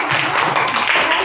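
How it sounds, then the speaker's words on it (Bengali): An audience claps steadily through a short stretch at a Victory Day prize-giving ceremony, a dense, even wash of many hands with no pauses or voices standing out. "সবাই একটু জোরে করতালি দিন।"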